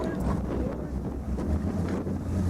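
Wind buffeting the microphone on a boat during a docking attempt, a steady low roar and rumble of gusts with a faint voice underneath.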